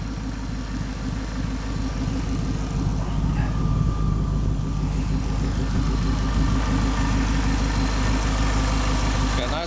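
Supercharged V8 in a 1933 Ford Roadster Factory Five hot rod idling steadily, a loud, close, continuous low rumble with no change in pitch throughout.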